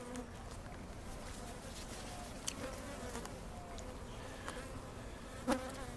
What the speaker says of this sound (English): I've got a lot of the bees that are buzzing around the side of me